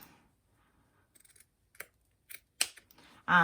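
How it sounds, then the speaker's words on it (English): Several crisp scissor snips trimming zipper tape at an irregular pace, close up, ending with a louder rustling burst. "I'm actually at this point going to trim off my extra zipper tape just to get it out of the way."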